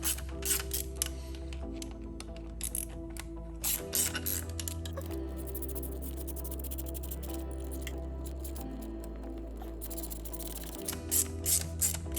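A ratchet wrench loosens bolts during an airbox install on a 2023 Indian Sport Chief motorcycle, steady close clicking and mechanical ratcheting running throughout, loud and continuous with brief pauses.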